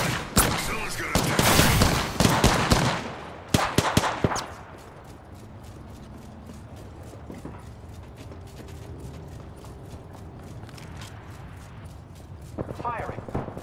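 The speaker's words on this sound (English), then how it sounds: "Firing. I am taking fire, friends." Heavy gunfire in the video game Apex Legends erupts loud and close in rapid bursts for a few seconds, then gives way to quieter mechanical clicks and footsteps, with a game voice speaking in the lull.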